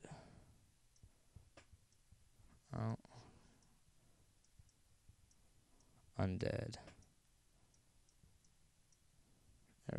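Soft typing clicks tap away quietly and irregularly while searching for a song in an iPod or iPhone music app, broken by two short bursts of a person speaking.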